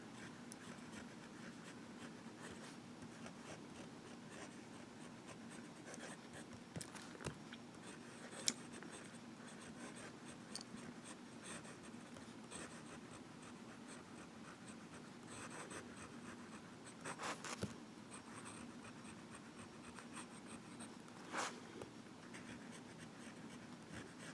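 A Visconti Mirage fountain pen is drawn in reverse across paper, making a very faint, soft, continuous scratching with a few small louder strokes over a quiet background.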